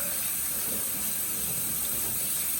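A kitchen tap runs in a steady hiss of cool water while cabbage leaves are rinsed for kimchi, a close, continuous stream with no voices.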